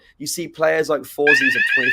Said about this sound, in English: There is a fire alarm just completely gone off.